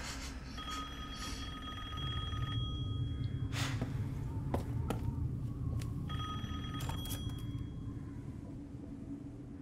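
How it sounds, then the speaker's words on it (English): Telephone ringing inside the video game Resident Evil Village, two bursts of electronic ring tones over a constant low rumbling game ambience. "Your phone's ringing."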